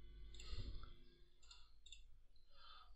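A computer mouse clicks while working in WaterCAD pipe-network software, giving a few faint, close, separate clicks spread over a few seconds against low background hum.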